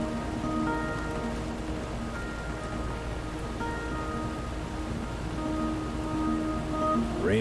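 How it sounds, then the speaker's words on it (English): Steady rain pours in the video game Road 96, a constant hiss of drops on surfaces with faint tonal game sounds underneath. "Rain won't quit, will it"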